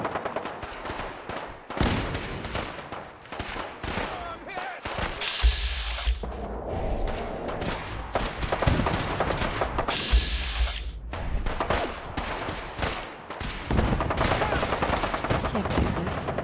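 Gunfire in the video game Fallout 4, a mix of rapid automatic bursts and single heavy shots with occasional booming thuds, spread across the whole stretch with short pauses, loud and close, with game voices in between.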